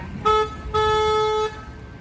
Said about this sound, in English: I'm going to honk the horn real quick to let the other boats know that we're coming out